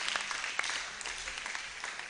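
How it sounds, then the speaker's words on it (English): An audience at an anniversary symposium for the Sisters of Our Lady of Apostles claps together, a dense patter of many hands heard from a distance, moderate in volume and steady throughout. "Let us clap for them."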